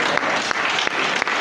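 A church congregation gives a steady round of hand clapping during a morning service, dense and continuous applause filling the room with no speech over it.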